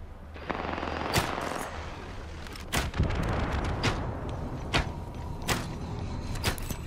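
Gunfire in the battle royale game Apex Legends, where rapid weapon bursts crackle through a dense, noisy mix and sharper shots stand out roughly every second.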